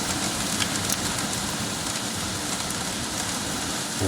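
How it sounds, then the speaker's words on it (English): Dense, steady pattering covers everything, a continuous hiss of hail or heavy precipitation striking surfaces close by, with no voices. "It's hailing."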